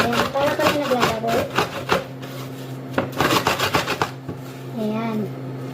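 Saluyot (jute) leaves chopped with a knife on a board: a fast run of sharp, close knocks in bursts, with a voice speaking or humming over parts of it.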